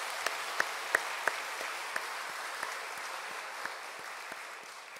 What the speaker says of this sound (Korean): 서로를 위해서 한 번 더 박수를